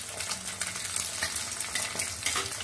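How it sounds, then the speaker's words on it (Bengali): An egg frying in oil in a pan, giving a loud, continuous crackling sizzle with scattered pops and no talking. "এখন ডিম ভেজে নিচ্ছি।"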